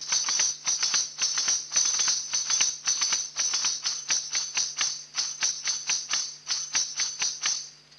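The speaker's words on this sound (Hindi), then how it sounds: "ये तो छोटे घुंघरू की आवाज थी" Small ghungroo ankle bells shaken in a steady rhythm of quick metallic jingling bursts, bright and close, played alone in a classical Indian music setting.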